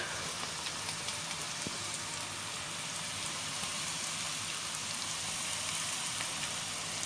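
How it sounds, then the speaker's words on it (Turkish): Green peppers and onions fry together in a pan for menemen, giving a steady even sizzle that stays close and constant throughout, with no talk over it. "biber ve soğan bu şekilde beraber harmanlanıp pişiyorlar."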